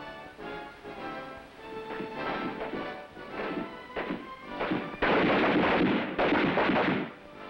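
Rifles fire on an army training firing line, with irregular sharp cracks of varying loudness echoing at mid distance, then a denser, louder burst of overlapping shots near the end.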